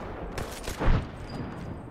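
Gunfire from the video game Apex Legends, a few quick shots and a brief burst that cluster into one louder boom near the middle, heard close and fairly faint.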